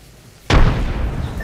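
A frag grenade detonating in a video game, a single sudden loud blast with a heavy low boom that rolls off into a rumbling tail.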